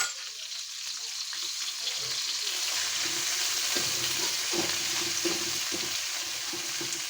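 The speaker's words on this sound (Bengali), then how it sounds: "এই তেলে মাছগুলো ভুনা করবো।" Koi fish sizzle and fry in hot oil for khichuri, with a steady bright crackle and occasional stirring clatters from a pan close by, continuous throughout.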